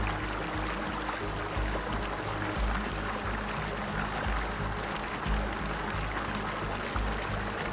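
An Icelandic waterfall roars in a dense, steady wash of falling water, loud and unbroken throughout with no voices.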